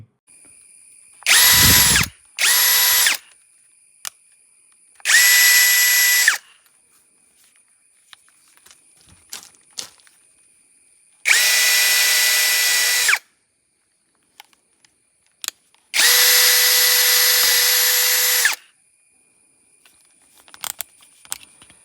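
An Ingco 13mm 20V brushless cordless drill runs in five separate bursts of a few seconds each, a loud close whirring with quiet handling clicks in the pauses.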